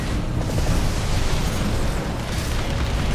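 Missile and bazooka blasts burst in Armored Core 6 mech combat, a dense, loud, continuous rumble of overlapping explosions with no clear gaps and no talk.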